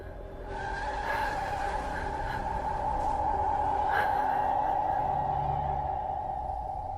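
A car skids before striking a pedestrian, a sustained loud tire squeal with a steady tonal screech that swells in and holds for several seconds, heard alone.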